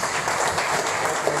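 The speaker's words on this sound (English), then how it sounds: "Can we applaud both Joel and Rose?" Applause from the audience for Joel and Rose at an NUP leaders' retreat with Bobi Wine, a steady dense wash of clapping filling the room without a break for the whole stretch.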